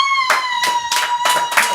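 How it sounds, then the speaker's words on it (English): Five sharp claps land in a steady, even rhythm over a constant high electronic tone in a basement comic book review show. "They keep clapping every time you're saying fuck."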